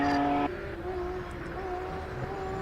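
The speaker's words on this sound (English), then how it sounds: "You feel the anti-lag in that car, and you feel it through your bones" A race car with an anti-lag system climbs the Simola hillclimb course: a steady, moderately distant engine drone whose pitch shifts as it pulls away, with no one talking.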